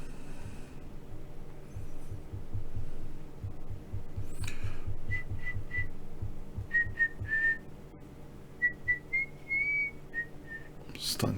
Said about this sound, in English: Starting to whistle during game